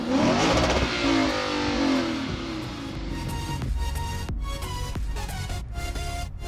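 A deep 5.0-litre V8 engine of a 2016 Lexus GS F revs hard up close, then settles into a rumbling idle with sharp pops and crackles.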